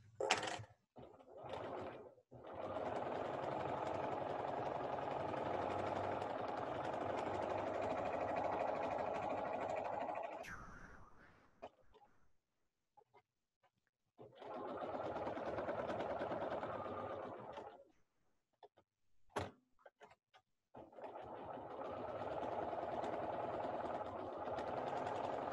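A sewing machine stitching fabric runs in long steady bursts of several seconds each, separated by near-silent pauses and brief handling clicks, heard close and moderately loud.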